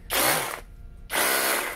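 Toyoko cordless concrete hammer drill, a brushless model, whirs loudly in two bursts separated by a short pause, with a dense, rattling mechanical drone.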